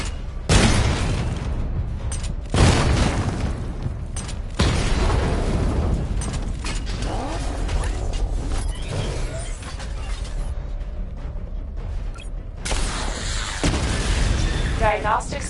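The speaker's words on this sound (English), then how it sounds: "Charge the missile barrage to level 2 to destroy up to 4 targets at once." Heavy booming explosions from a missile barrage in Batman: Arkham Knight, several big blasts spaced across a loud rumbling game mix, with a voice speaking over parts of it.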